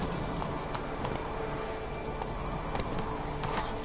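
Roach, the horse in Witcher 3, gallops at a quick, even pace, with hoofbeats drumming steadily close by over a constant background of motion, and no voices are heard.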